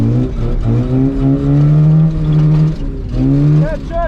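A Toyota KE70 Corolla with a welded differential is driven hard while drifting. Its engine is loud and close, revving up and down in surges with a brief dip before climbing again.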